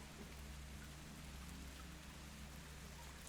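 Steady rain falls as an ambient effect in an online Dungeons and Dragons session, a continuous even hiss of drops with a low rumbling undertone, constant in level and without voices.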